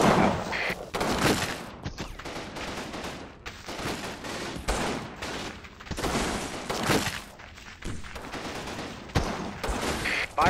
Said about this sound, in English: These are also seen off with a withering barrage of fire.